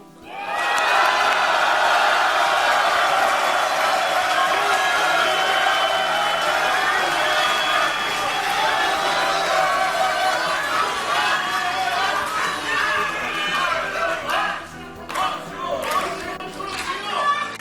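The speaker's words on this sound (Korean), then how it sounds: "한번 환호합시다." A large crowd at a political party rally cheers and shouts in a sustained, loud wave that gradually thins toward the end, with scattered clapping and calls breaking through.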